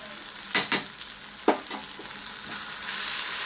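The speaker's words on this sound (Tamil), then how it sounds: "இதெல்லாம் நல்லா கொஞ்சம் வதக்கி விட்டுட்டு ஸ்டவ் ஆஃப் பண்ணிக்கோங்க" Turmeric and curry masala powder sautéing in a pan for a horse gram curry, with a few sharp stirring scrapes near the start and then a steady soft sizzle building toward the end, close and alone.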